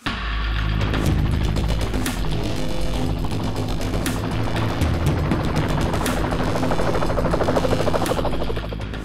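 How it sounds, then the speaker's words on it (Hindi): A helicopter airlifts people during a ropeway rescue in Deoghar, its rotor and engine roaring loud and steady throughout, close and continuous with no voices. "रेस्क्यू के दौरान जब हेलीकॉप्टर से एयरलिफ्ट किया जा रहा था"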